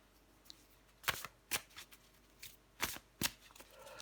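Tarot cards shuffled by hand at close range, a series of quick, crisp riffling bursts separated by short pauses, with no talking.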